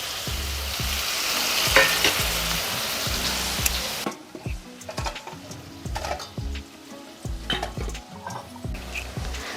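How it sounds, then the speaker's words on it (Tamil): Brinjal, onion and tomato for an oil-rich South Indian kuzhambu sizzle in a pan while a spoon stirs and scrapes. Loud frying in the first half, then quieter sizzling with repeated stirring knocks. "குழம்புக்கு தேவையான அளவு உப்பு போட்டுட்டு வதக்கிக்கலாம்"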